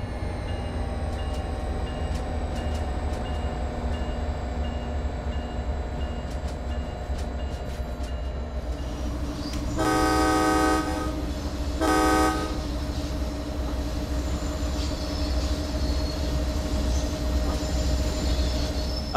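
An MBTA F40PH-3C diesel locomotive in Train Sim World 2 idles with a steady low engine drone, then sounds two loud horn blasts mid-clip as the engine note rises while it starts pulling away.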